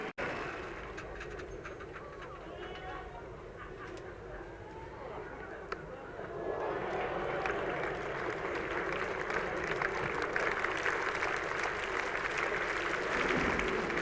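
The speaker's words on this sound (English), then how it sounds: "The applause was for Geoffrey Boycott's return from the outfield." Crowd applause at a Headingley Test match between England and Australia, steady broad clapping that swells midway and continues through to the end, with commentary voices over it.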